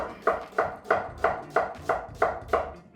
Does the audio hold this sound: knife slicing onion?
yes